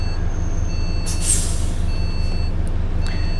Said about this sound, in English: I'm still going to have to brake, bring the vehicle to a halt behind the line